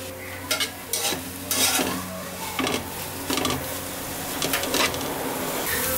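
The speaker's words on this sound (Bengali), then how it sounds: "দেখতে পাচ্ছেন সবজিটা ভাজা হয়ে গেছে" Mixed vegetables frying and being stirred in a pan with soy sauce and pepper, a steady sizzle broken by repeated scraping strokes of a spatula, close and fairly loud with no voices.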